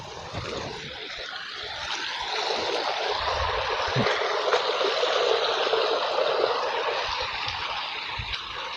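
Heavy rainwater runs through a village like a river, a continuous broadband rushing flow that is moderately loud and steady, with a faint low rumble underneath.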